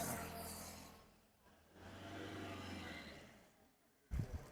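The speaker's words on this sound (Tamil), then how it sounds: "இதான் கிளம்ப போதுங்க வண்டி." A Maruti Ertiga or similar used car at an outdoor dealer lot rumbles at low pitch and pulls away, the engine note swelling then fading over a few seconds, ending with a short loud bump or thud.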